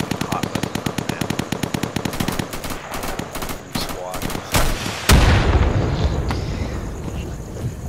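Rapid automatic gunfire in the shooter game Insurgency, dense bursts of close shots giving way to a loud blast with a rumbling, echoing tail.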